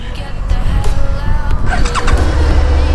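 A 2018 Suzuki SV650 motorcycle engine starts at the push of a button and settles into a loud, steady idle rumble, with a brief rise as it catches.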